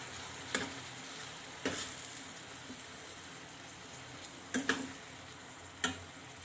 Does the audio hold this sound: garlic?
yes